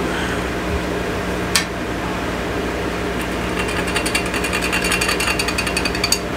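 Sanding a wine glass before laser etching gives a steady, loud mechanical buzz with a rattling, rapid vibration that grows more clattery toward the end, plus a single sharp tick partway through.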